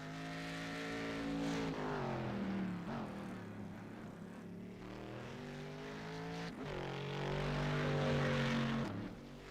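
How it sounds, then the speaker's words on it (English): Chevrolet Corvette GT1 race cars in a sim-racing sports car series lap a circuit, engines droning loud and close with rising and falling harmonic pitch as they shift and pass, steady and continuous without talk. "I love listening to those Corvettes make their way around the circuit."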